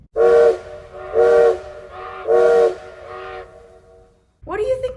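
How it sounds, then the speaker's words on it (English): A train's steam whistle gives three short, evenly spaced loud blasts, each with a hissy onset, followed by a brief fading tail and a final clipped burst. "3 short blasts mean the train is backing up"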